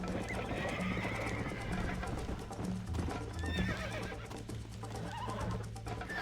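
A horse in the Red Dead Redemption video game whinnies repeatedly over a steady clip-clop of hooves, sounding close and continuous with no one talking.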